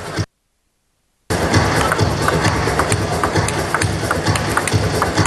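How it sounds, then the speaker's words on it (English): An arena crowd at a China Open table tennis semifinal stirs with excitement, a loud, busy murmur of many voices and scattered claps after a brief cut to silence. "Crowd getting excited."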